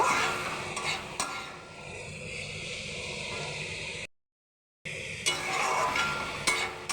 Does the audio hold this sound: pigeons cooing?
no